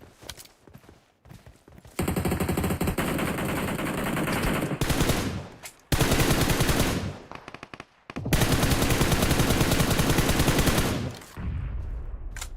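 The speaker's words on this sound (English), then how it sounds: "Shooting at us." Gunfire in the mobile battle-royale game PUBG Mobile during a tournament match: loud, sustained automatic bursts separated by brief gaps, rattling on for several seconds at a time, with no voices.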